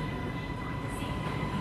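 A Bangkok MRT subway train pulls into the station with a steady, loud rumble that fills the platform.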